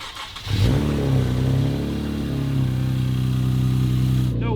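A salvaged Dodge Demon's engine cranks and catches, then settles into a loud, deep, steady rumble with a slight rise in revs before cutting off abruptly.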